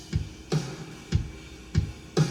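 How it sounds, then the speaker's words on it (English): A soloed drum mix runs through a drum bus with a tape simulator, compressor and hard limiter, giving a steady pattern of kick and snare hits about every half second, fairly quiet and dry. "So if I were to solo all the drums,"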